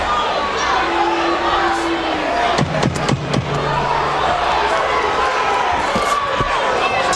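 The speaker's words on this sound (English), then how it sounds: "And you hear the booing." Crowd at a boxing match between Zab Judah and Reggie Greene, a steady dense roar of noise with sharp slaps and thumps near the middle, loud and continuous throughout.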